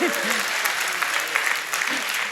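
An audience claps for a dog in a church setting, a steady patter of applause filling the room while a voice speaks over it.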